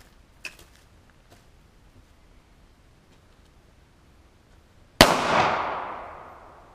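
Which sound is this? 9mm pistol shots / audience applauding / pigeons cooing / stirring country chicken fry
9mm pistol shots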